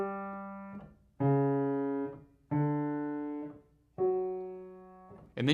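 Piano bass notes from Schumann's From Foreign Lands and People, Scenes from Childhood Op.15: four sustained low notes struck one after another, each ringing and fading before the next, played alone.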